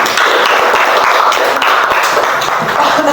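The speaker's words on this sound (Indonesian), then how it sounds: "Kita beri tepuk tangan dulu." A classroom claps for group B after its presentation: loud, steady, dense applause from many hands, continuous and close throughout.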